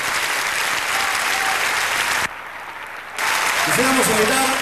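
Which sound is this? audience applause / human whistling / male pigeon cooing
audience applause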